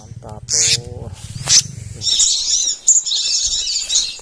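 A protected selendang biru bird in Indonesia gives repeated loud chirps and harsh calls close by, with someone speaking over parts of it.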